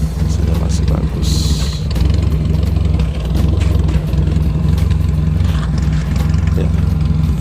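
A Toyota Corolla KE30 engine running steadily after starting, a loud close low rumble throughout, with faint clicks and a brief hiss over it.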